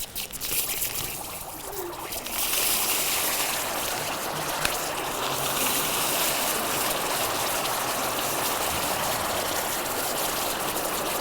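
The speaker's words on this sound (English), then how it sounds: "What you see here is the carbon dioxide reacting with the water and actually letting off vapor, carbon dioxide vapor." Dry ice dropped into water bubbles and fizzes steadily, releasing carbon dioxide vapor. A dense, even hiss and gurgle is heard close by, with no talk.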